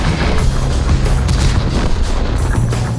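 Incoming fire in a tank video game battle replay, a dense continuous wall of loud booming shell impacts and rumbling gunfire with no clear gaps throughout.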